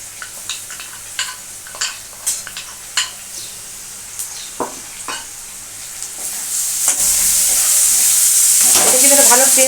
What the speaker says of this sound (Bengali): পেঁয়াজটা কিন্তু আমি ভালো করে ভাজছি